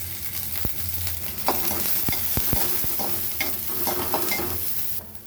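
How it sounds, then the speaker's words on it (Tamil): Onions sauté in hot sesame oil, a steady loud sizzle broken by sharp scraping and clicking strokes of a stirring utensil against the pan. "இப்போ இந்த வெங்காயத்தை போட்டு வதக்கிக்கலாம்"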